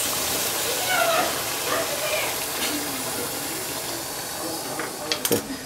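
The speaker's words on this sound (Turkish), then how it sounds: "Şu sıcak suyu tencereye koyuyoruz hazır hale." Hot water pours steadily into a cooking pot for arabaşı soup, a continuous rushing hiss, a few light clinks near the end.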